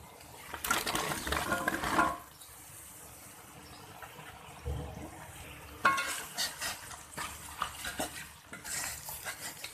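Taro pieces stirred and frying in a pan with spices for a koi fish curry, with bursts of utensil scraping and clatter against the pan between quieter stretches of sizzle.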